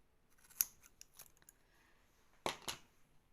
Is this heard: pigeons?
no